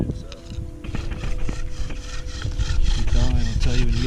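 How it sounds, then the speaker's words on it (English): A wooden bow drill is sawed back and forth against a wooden board to make a friction fire, giving a loud, rhythmic rasping scrape with repeated strokes. People talk over it outdoors. "Kody is going to do a bow drill fire"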